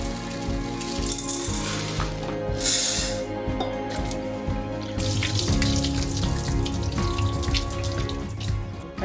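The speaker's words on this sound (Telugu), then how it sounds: "టూ కప్స్ వాటర్ వేసుకుంటున్నాను" A steady stream of water pours and splashes into a vessel of chana dal, close by and fairly loud, with a faint tonal hum running underneath.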